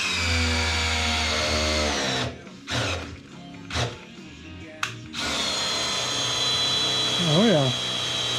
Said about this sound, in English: so Brian ran over to get a drill to run that.